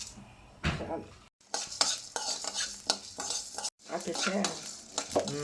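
Coriander, cumin and fenugreek seeds are dry-roasted in a pan, giving a steady scraping, stirring rustle with faint sizzle and clinks of a utensil against metal, close and continuous with two brief gaps.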